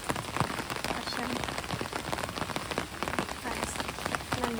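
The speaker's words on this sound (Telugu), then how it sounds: "వర్షం అయితే ఇట్లుంది. చూడండి ఎట్లా పడుతుందో" Rain falls steadily onto hard surfaces, a dense, even patter of close drops that continues without pause from start to finish.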